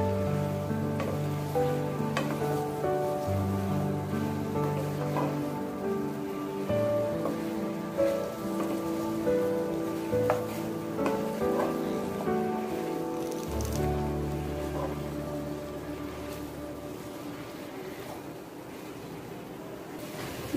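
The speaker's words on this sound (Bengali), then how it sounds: "কচু শাক আমি এখন এভাবে কিছুটা নেড়ে দিব" Taro leaves stirred and wilting in a pan give a soft, wet sizzle under a layer of steady background music, with scattered spattering ticks and a low rumble that drops away partway through.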